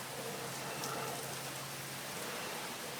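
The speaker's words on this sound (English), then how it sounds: "We are definitely getting tons of rain." Heavy rain pours down steadily onto a restaurant patio, a dense, constant hiss of drops with no pauses and no voices.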